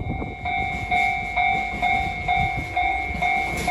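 A train runs through Sapporo Beer Garden station at close range, with steady rhythmic clacks from the wheels over rail joints and a sustained high tonal whine.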